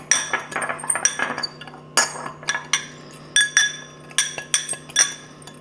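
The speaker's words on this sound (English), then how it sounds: "We're going to go ahead and just mix that up really, really well." A utensil clinks rapidly against a glass bowl while dry spices are mixed for a pork rub, making a close run of bright, irregular taps and scrapes.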